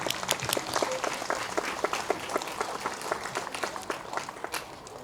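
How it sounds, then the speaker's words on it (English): An audience at a Tibetan community gratitude gathering gives a round of applause, fairly quiet and somewhat distant, with scattered claps rising and thinning over about five seconds. "Please give them another round of applause."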